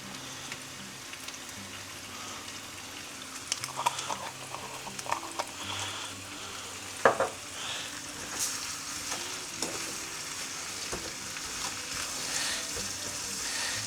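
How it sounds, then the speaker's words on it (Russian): Sliced apples with sugar and cinnamon fry in a covered pan with a steady, dense sizzle and crackle, broken now and then by stirring clatter, close and continuous with no talking. "и пускай жарится, тушится, и время от времени помешиваем"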